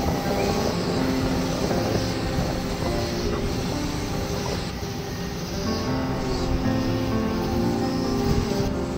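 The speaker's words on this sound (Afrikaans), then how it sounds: "Luister met my saam na die klanke van die boot, die water, die geluid van die stad." A boat moving along an Amsterdam canal on a winter night during the light festival, a steady low engine drone with water wash and city ambience running continuously throughout.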